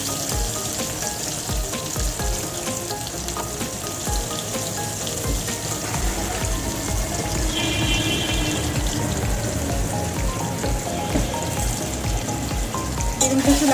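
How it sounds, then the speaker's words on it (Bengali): Eggplant seasoned with salt and turmeric fries in a pan with a steady, dense sizzle that runs throughout, with light crackles on top. "বেগুনটা একটু লাল লাল করে ভেজে নেব।"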